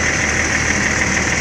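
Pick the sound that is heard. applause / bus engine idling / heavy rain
bus engine idling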